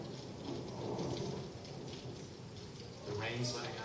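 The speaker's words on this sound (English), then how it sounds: "The rain's letting up." Radio play sound effect of a steady rainstorm with low rolling thunder swelling twice, a dense continuous wash of falling rain throughout.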